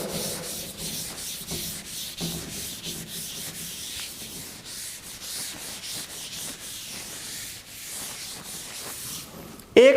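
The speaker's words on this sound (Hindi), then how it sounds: "मैं इसे फिलहाल पूरे को रब कर रहा हूं।" A surface is rubbed or wiped off with rapid, rhythmic back-and-forth strokes that stay steady and close for the whole stretch, ending in a brief louder knock.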